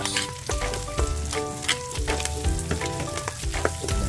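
Mung beans frying in a hot pan, a steady close sizzle with repeated clicks and scrapes of stirring throughout, with no voices.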